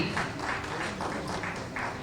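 Applause from a crowd at the Jharkhand board exam result announcement, steady clapping with soft rhythmic swells, moderately faint and continuous.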